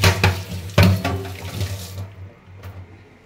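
Running tap water rinses a tea strainer after milk tea has been strained through it, a steady broadband splash with a couple of louder bursts near the start before the flow thins and softens toward the end.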